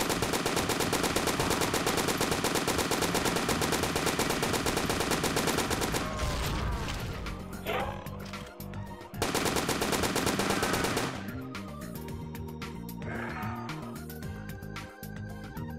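Roblox weapons fire in long sustained bursts of rapid automatic gunfire. Brief pauses break it up, and shorter volleys follow, loud and dense throughout.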